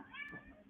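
A house cat gives a single short meow, close and fairly quiet, in a small room with no other noise around it.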